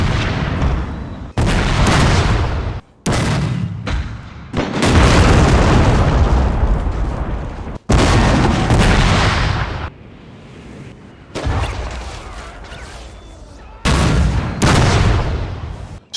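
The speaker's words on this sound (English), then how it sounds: "ordered his Union artillery under the command of Colonel Wainwright to begin bombarding Jackson's Confederate positions in front of him" Civil War era artillery bombardment at the Battle of Fredericksburg, a run of loud, booming cannon blasts and rumbling detonations in bursts separated by brief pauses, with no voices.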